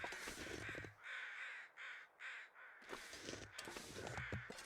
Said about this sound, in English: Where are these crows at?